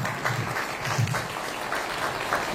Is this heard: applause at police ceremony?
yes